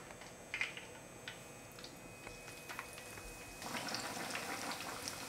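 Korean market-style fried chicken, Sijang-tongdak, cooking in hot oil, a steady low bubbling sizzle with light crackles and pops that swells louder toward the end.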